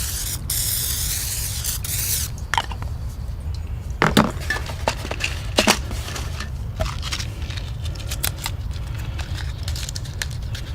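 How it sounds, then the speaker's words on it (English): Pam cooking spray hisses from an aerosol can in a backyard mole-control setup, a steady close spray running about ten seconds, with occasional small clicks and rattles over it. "You apply first the Pam cooking spray."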